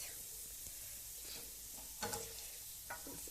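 A wooden spoon stirs eggs and grated kasar cheese frying in a pan during a home breakfast, giving a faint steady sizzle with a few soft scrapes and taps, quiet and distant, with no talk.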